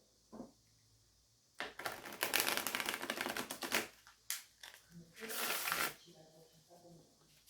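A deck of cards is shuffled in several bursts of riffling and flicking, close and crisp, with a soft voice speaking before and after the shuffles.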